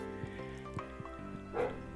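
A dog barks downstairs in a house, several short muffled woofs and a whine at moderate distance, heard over a steady background tone.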